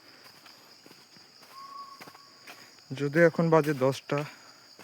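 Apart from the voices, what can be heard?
crickets chirping in forest at night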